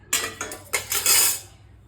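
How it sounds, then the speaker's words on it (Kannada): Kitchen utensils including a ladle, a spoon and a tea pan are handled, a quick run of bright metallic clinks and clatters, close and loud, with no talking. "ಒಂದು ಸ್ಪೂನು, ಟೀ ಮಾಡೋ ಪಾತ್ರೆ ಒಂದು"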